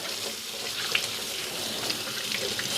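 Hands are rinsed under a running kitchen tap, a steady hiss of splashing water with small irregular splatters, fairly faint and close, no talking.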